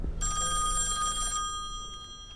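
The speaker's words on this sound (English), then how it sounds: "Phone call." A telephone rings in the horror video game Song of Horror, one sustained bright electronic trill lasting about a second before it cuts off, leaving a faint low background hum.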